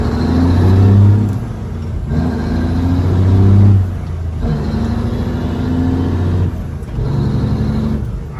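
Peterbilt truck doing a burnout with tires spinning, a loud steady low engine roar that surges and dips in waves, rising twice before easing back, close and without speech.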